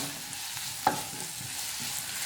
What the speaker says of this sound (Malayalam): ഇനി ഇതെല്ലാം കൂടി നന്നായിട്ടൊന്ന് വഴന്ന് വരട്ടെ ഇതൊരു ലൈറ്റ് ഗോൾഡൻ ഷെയ്ഡ് ആവണ വരെ നമുക്ക് വഴറ്റിയെടുക്കണം